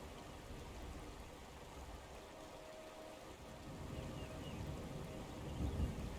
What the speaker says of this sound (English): just listen to the sound of the water